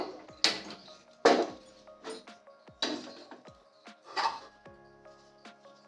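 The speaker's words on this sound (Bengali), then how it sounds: "আমি কড়াইটি ঢাকা দিয়ে 5 মিনিট প্রিহিট করে নেব।" A metal lid set onto a karahi wok on a gas flame for preheating gives a few sharp, ringing clanks and knocks spread over several seconds, close by and fairly quiet, with no talking.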